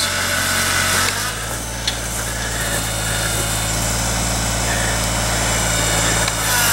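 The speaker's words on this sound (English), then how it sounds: "we're using a Kubota to cut a trail in here" Steady engine drone of a small 23-horsepower Kubota tractor with a front loader cutting a trail through bush in a wood lot, a continuous close hum with some scraping and brush noise layered on top.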